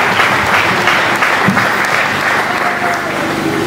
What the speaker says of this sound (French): applaudissez-vous pour les applaudissements